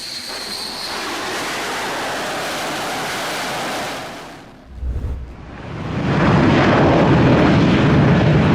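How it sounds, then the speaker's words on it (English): A Russian MiG fighter jet's engine roars loudly, dips briefly with a heavy thump as it lands on the deck of an Indian aircraft carrier, then surges back to a powerful roar. "A Russian MiG touches down on India's biggest warship."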